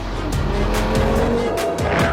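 Audi's £40,000 hot hatch driven flat out on mountain roads above Monaco, engine roaring continuously while tyres squeal in several sharp bursts through the corners.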